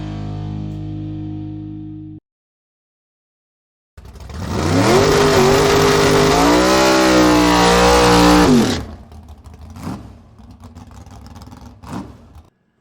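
Twin-turbo 5.3L Starion drag car engine revving hard: a low idle, a pause, then a sustained loud rising rev held for several seconds before it drops off, followed by a couple of sharp pops.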